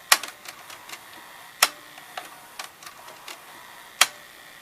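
A Sony SLV-701HF VCR's tape mechanism runs with sparse, irregular mechanical clicks and ticks close by over a faint steady whir, the machine otherwise quite quiet.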